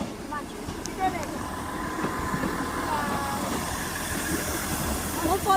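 A Class 158 diesel train, unit 158A66 bound for Manchester Piccadilly, idles and rumbles at Ely station near the level crossing, steady and moderately close, with people talking over it.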